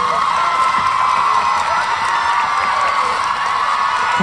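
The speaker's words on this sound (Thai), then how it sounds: "ขอเสียงปรบมืออีกครั้งเป็นกำลังใจให้กับทีมงานครับ" A crowd at the Love By Chance Season 2 announcement event applauds and cheers for the team and cast, with steady clapping mixed with whoops and shouts filling the room continuously.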